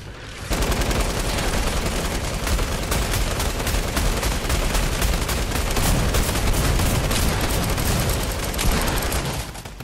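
Continuous rapid automatic gunfire from a favorite gun in a survival video game, loud and dense bursts hammering almost without pause for the whole stretch.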